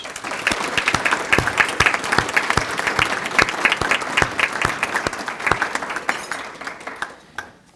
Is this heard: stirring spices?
no